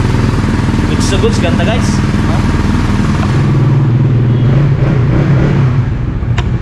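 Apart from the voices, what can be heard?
Suzuki Raider FI 150 motorcycle engine starting and revving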